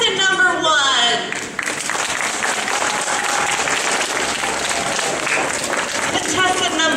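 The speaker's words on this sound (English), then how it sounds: "So audience, by round of applause, how many of you would like to see our Bachelor pick contestant number 1?" A dating show audience breaks into loud, sustained applause and cheering for contestant number 1, dense clapping that swells after a spoken lead-in and carries on steadily.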